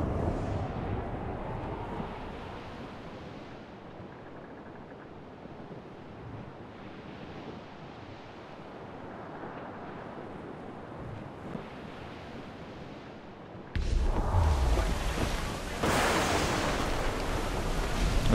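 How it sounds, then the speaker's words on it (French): A storm at sea in Assassin's Creed IV Black Flag: steady roaring wind and rushing waves fill the scene, then a heavier crash of surf swells louder near the end, with no talking. "Ok, c'est la tempête."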